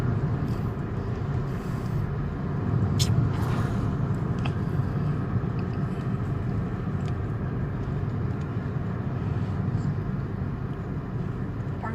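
A car driving slowly along a street, a steady interior road rumble and tyre noise with a few faint clicks and thumps, continuous and moderately loud.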